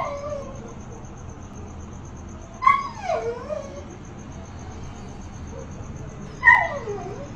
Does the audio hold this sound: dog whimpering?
yes